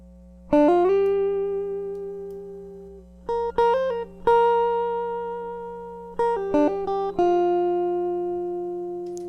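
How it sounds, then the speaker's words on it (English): A dry DI electric guitar plays a lead-style line with no effects: plucked single notes and short bends ring out and decay cleanly, with a faint steady hum underneath. "So you take a kind of dry, boring DI guitar sound."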